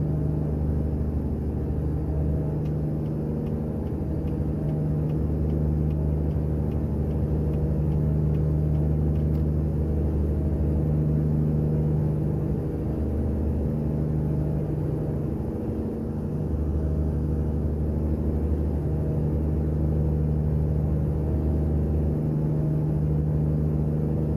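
Heavy truck engine from the Creature Sounds mod in American Truck Simulator, a deep continuous diesel rumble with layered low tones that swell and ease slightly as it drives, loud and steady without talk.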